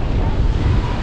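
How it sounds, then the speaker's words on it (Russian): Strong seaside wind in Piran, Slovenia buffets the microphone in a steady, loud low roar, with surf-like rushing noise filling the whole moment and no clear voice over it. "очень, очень ветрено тут."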